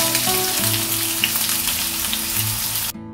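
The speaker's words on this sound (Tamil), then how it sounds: "வெங்காயம் ஓரளவுக்கு வதங்கிடுங்க." Finely chopped onion with dried red chillies sizzling and frying steadily in hot oil in a pan, a dense close crackle with faint background tones, cutting off abruptly at the end.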